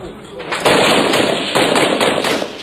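Sporadic gunfire from street fighting between warring factions in Monrovia, with several sharp cracks and bursts over a noisy, distorted background.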